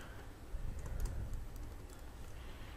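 Computer keys tapped while writing code, a quiet run of soft clicks and clacks at an uneven pace, a few sharper presses standing out near the middle.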